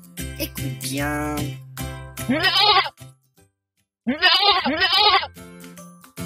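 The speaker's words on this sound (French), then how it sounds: "C'est le mouton, bien sûr." Sheep bleating in several loud, wavering calls close by, a single bleat followed after a pause by a rapid pair, with a brief voice speaking just before them.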